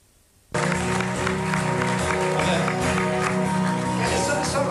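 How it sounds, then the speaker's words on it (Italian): A concert audience at a 2006 live show breaks into sudden, loud applause that swells into a dense, sustained roar with cheering voices blended in, continuing steadily to the end. "Applauso, grazie, grazie, grazie."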